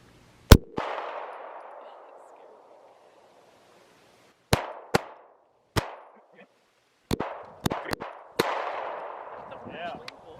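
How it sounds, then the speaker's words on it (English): 9mm pistol shots fired at a tannerite target outdoors, about eight sharp loud cracks in irregular bursts, each followed by a long rolling echo. "We're gonna shoot some tannerite."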